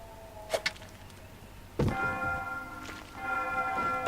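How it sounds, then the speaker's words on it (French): Bell in Tomb Raider Chronicles struck by an explosion that breaks wooden planks: a heavy thud followed by a ringing, sustained metallic tone that decays and rings again, preceded by two short clicks, with no talk. "on a pété la cloche qui nous a permis, grâce à la détonation, de bousiller les planches de bois"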